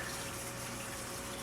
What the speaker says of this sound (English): water is actually flowing from my drain and making its way to the slots, the teeth over here